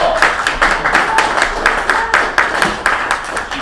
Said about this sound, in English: please have a round of applause for my daughter Bella